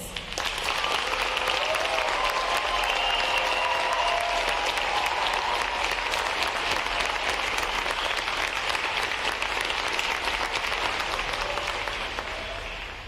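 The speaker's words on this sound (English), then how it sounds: "Please join me in giving them and the other two graduating divisions here today a round of applause for their outstanding performances." Sustained round of applause from a large crowd at a Navy recruit training command graduation, dense, even clapping holding at full strength for many seconds before easing slightly at the end.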